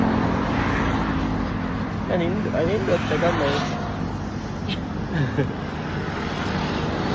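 Street traffic in Davao, a continuous roadway hum with passing vehicles and some wind, heard under people talking in the middle of the stretch.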